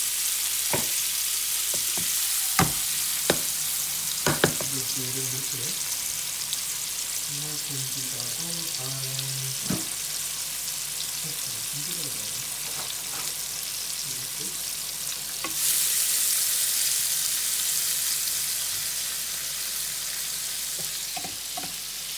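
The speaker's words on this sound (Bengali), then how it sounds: "আমি গার্লিকগুলো একটু শ্যালো ফ্রাই করবো" Garlic shallow-fries in hot sunflower oil in a wok with a constant crackling sizzle, broken by scattered clinks of a utensil and short voices, and the frying grows louder near the end.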